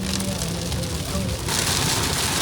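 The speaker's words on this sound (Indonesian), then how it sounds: "Ini hujan deres banget" Heavy rain drums on a car during a Jakarta to Jogja road trip, a dense, loud, continuous hiss of water on the body and glass heard from inside the cabin, steady throughout and briefly swelling louder partway through.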